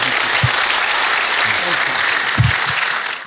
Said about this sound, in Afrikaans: Kom ons gee vir ou Lasse 'n hande klap en baie dankie